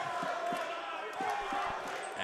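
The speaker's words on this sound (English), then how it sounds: "As you can hear, this crowd doesn't know here who to root for." A dense indoor wrestling arena crowd at Harbour Convention Centre, Vancouver, roars and cheers steadily, with scattered thumps and a commentator's voice underneath.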